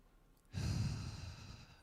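During a guided relaxation exercise, one person draws a slow, deep breath that becomes a long, soft exhale, close and quiet.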